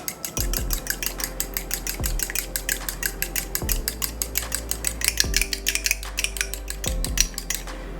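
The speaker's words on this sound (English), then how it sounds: "you're just going to take your eggs, beat them up" Eggs beaten in a bowl with a whisk or fork for lemon white chocolate chip cookie dough, giving a fast, steady run of bright metallic clinks against the bowl with periodic heavier knocks, close and continuous with no talking.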